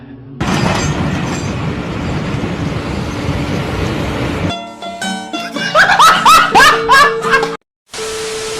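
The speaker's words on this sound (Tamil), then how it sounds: "எங்கள் ஊரில் வந்து ரயிலுக்காக காத்துட்ருக்கோம் ரயில் பாருங்களேன்" A loud rumbling train passes close by, then cuts to chattering voices and laughter with a brief dropout before the noise resumes.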